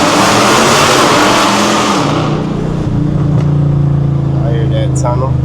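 Loud, broadband roar of a cammed Dodge Challenger R/T revving inside a tunnel, easing from a dense, echoing blast into a lower rumbling idle-like drone, with a voice talking briefly near the end.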